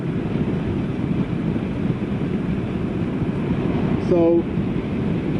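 Steady broadband wind roar buffets the rider at speed on a Buell XB12X motorcycle, a continuous low rushing that stays constant throughout, with a brief tonal chirp near the end.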